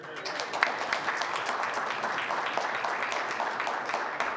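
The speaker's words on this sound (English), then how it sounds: "I ask my honourable colleagues to join me in applauding Joy Barker" Members of the Newfoundland and Labrador House of Assembly applaud in the chamber, a moderate, steady spatter of clapping with speech faintly mixed in.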